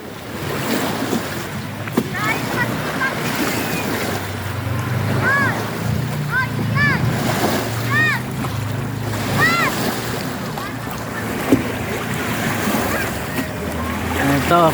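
A boat moves over the choppy waves of Laguna de Bay lake, giving a steady, close rumble of water and wind with lapping splashes and a few brief high whistling tones throughout.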